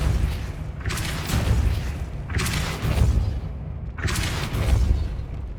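Repeated Depulso spell blasts in Hogwarts Legacy on PS5, three heavy booming impacts roughly every one and a half seconds, each followed by a rushing decay.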